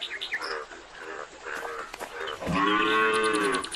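A cartoon cow lets out one long, loud moo near the end, after a stretch of busy animated background sounds.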